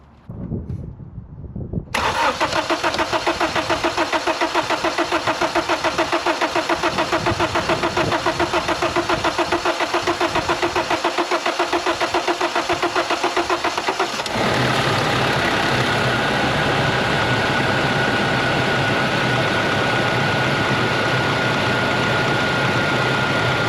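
A JAC T6 pickup engine cranks briefly and catches, then settles into a loud, steady idle that holds close and even for the rest of the stretch, its tone shifting slightly partway through.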